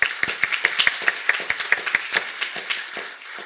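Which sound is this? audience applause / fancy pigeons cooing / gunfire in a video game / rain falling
audience applause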